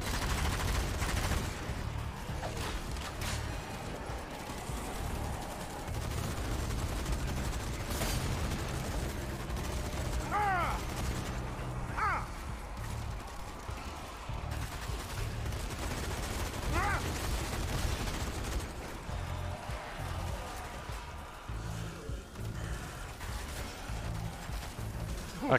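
Turret gunfire rattles on and off in a zombie video game, a dense stream of shots over a constant noisy backdrop, with a few sharp mechanical squeaks and no clear voices.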